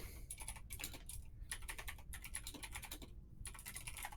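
Computer keyboard typing in quick bursts of key clicks separated by short pauses, steady and fairly close, with no voices present.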